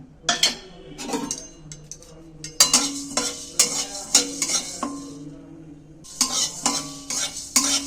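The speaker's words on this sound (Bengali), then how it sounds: "মশলা বলতে ধনে আর জিরে আমি এটা শুকনো খোলা ভেজে নেব" Coriander and cumin seeds are dry roasted in a pan, with a spatula scraping and stirring in irregular bursts and a light crackle of toasting seeds close by.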